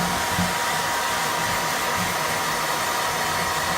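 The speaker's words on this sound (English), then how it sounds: "I'll just lay my blow dryer down," Handheld blow dryer running steadily while drying chalk paint on an antique frame, a loud, constant broadband whoosh with a low motor hum and no pauses.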